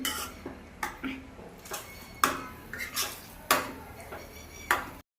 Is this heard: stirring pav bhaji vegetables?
yes